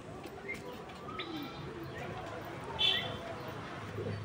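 A young pigeon, a wild or trapped bird held with its wings tied, gives soft low cooing that rises briefly midway, while a person talks close by throughout.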